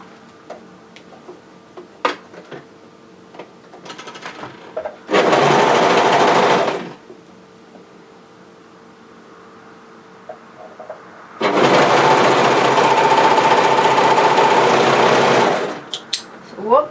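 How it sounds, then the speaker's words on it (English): An overlocker seams a wrap-front bodysuit in two loud bursts of rapid whirring stitching, one short and one longer, separated by quiet handling clicks and fabric rustles. "And then once I'm happy with that, I'm going to overlock that together."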